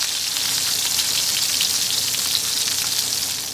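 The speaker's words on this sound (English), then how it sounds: "put our meatballs directly into the sauce. So you just want to drop these in." Meatballs dropped into a pot of simmering winter tomato sauce give a steady, close bubbling and sizzling hiss that carries on without a break and has no talk over it.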